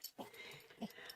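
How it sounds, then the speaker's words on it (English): A dog whimpers and yips in short, faint bursts while shut in a bathroom, two or three thin whines spaced across a brief moment with little else around. "I'm going to go rescue my other dog out of the bathroom because, you know, he's freaking out"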